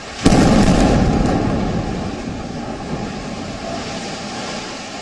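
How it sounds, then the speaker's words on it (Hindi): One loud blast from an Israeli air strike on a high-rise in Gaza hits sharply near the start, then fades into a long, steady, rumbling roar that slowly tapers off, with no voices. "दूसरा धमाका।"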